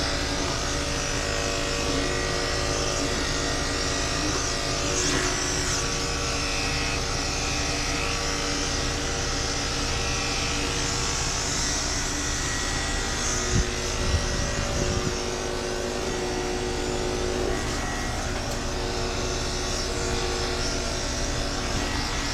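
A hair dryer blows steadily on a dog, a continuous close motor hum and airy rush with a faint tonal whine, unbroken for over twenty seconds.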